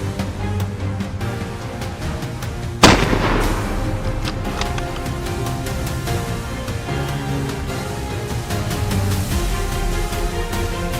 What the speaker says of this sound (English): gunfire echoed from all directions, signaling that more fleeing boars had been taken down